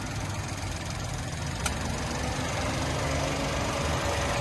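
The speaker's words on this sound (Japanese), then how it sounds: "はい、エンジン音になります。" A Mazda Flair MJ55S kei car idles with its engine running, a steady low hum and even mechanical churn held at close range, alone and unchanging.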